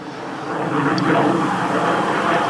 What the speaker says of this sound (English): like just 8 hours of fighter jet engines